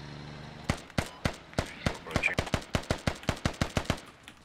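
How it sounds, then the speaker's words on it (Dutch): Rapid bursts of gunfire in the military shooter Squad, about fifteen sharp, evenly spaced shots with a ringing metallic tick of shell casings bouncing off a nearby wall, loud and close with no talk. "dat zijn die hulzen die tegen die muur naast ons springen gemaakt"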